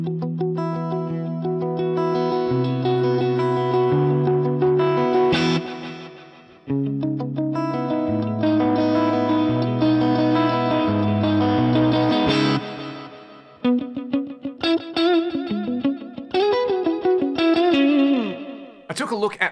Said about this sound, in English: You can add some tape noise or not have tape noise if you want. There's wow and flutter for modulation as well.